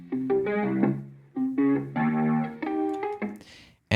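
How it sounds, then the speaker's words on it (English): A pop production melody with short phrases of sustained harmonic notes run through the RC20 plugin for distortion, wobble, hiss and noise. The phrases start and stop in separate bursts, ending in a hissy tail. "I'm going to use the RC20 by Excellent Audio to give a little bit more distortion, some wobble, some hiss and noise,"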